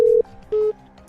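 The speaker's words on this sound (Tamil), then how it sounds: "ஐயோ டாக்டருக்கு ஃபோன் பண்ணுவோம்." Telephone keypad tones as a number is dialed to call a doctor, two distinct beeps separated by a short pause, loud and close.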